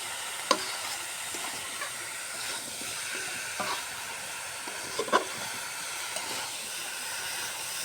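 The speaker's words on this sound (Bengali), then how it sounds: "ঢেঁড়সটা একটু কষে নিব একসাথে" Okra stir-fried in a pan for a Bengali okra, lentil and egg curry gives a steady soft sizzle and hiss throughout, broken by a few brief scrapes of a spatula against the pan, close and moderately quiet.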